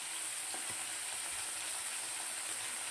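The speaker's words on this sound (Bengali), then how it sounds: "ভোলা মাছ রান্না হচ্ছে। আগে ভালো করে একটু ভেজে নেওয়া হবে।" Bhola fish frying in a pan gives a steady, dense hiss of oil sizzle throughout, even and close, with a couple of faint pops and no voices.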